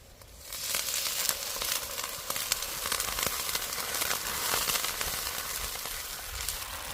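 Water poured onto onion and ginger paste frying in a pan bursts into a loud, steady sizzle that rises within the first half second and holds hissing and crackling throughout, with no voices.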